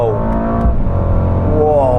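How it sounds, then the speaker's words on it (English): A 2021 Mercedes AMG GLE 63 twin-turbo V8 pulls hard in third gear from a rolling start, a loud rising engine roar heard from inside the cabin that climbs steadily in pitch. "I'm going to do a roll from 50 miles an hour in 3rd gear, see how this engine really pulls"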